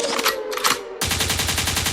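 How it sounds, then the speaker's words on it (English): A gunfire sound effect in a live music countdown show: a loud, rapid burst of shots that starts abruptly halfway through and rattles on to the end. "a gunshot means forward"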